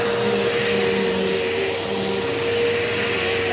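A Eureka Power Speed vacuum cleaner, found at the curb, runs with a constant loud whooshing roar and a steady motor hum, close up and uninterrupted.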